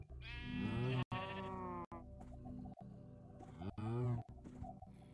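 Minecraft cows give several drawn-out, wavering moos in separate bursts, fairly quiet overall, with short gaps of game sound between the calls.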